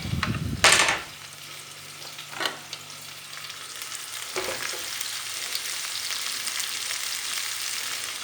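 Artichokes fry in a pan, a steady bright sizzle filling the background after a few sharp clunks and scrapes of food and utensils near the start.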